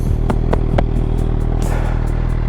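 A motorcycle setting off on a solo ride gives a steady, close engine rumble with a few sharp mechanical clicks and clatters over the drone.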